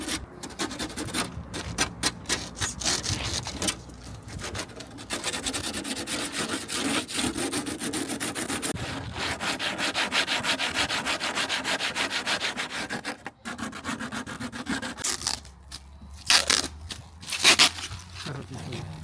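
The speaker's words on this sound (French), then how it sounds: "on va poncer un peu parce que j'ai peur que sinon ça va trouer le joint" Hand sanding on a caravan window frame during a renovation, with repeated back-and-forth scratchy rubbing strokes that run nearly continuously, close and fairly loud, with a few brief pauses and knocks near the end.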